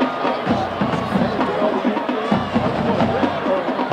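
Large crowd filling the stands at a high school football game at night, a steady dense hubbub of murmuring voices and scattered shouts heard continuously throughout.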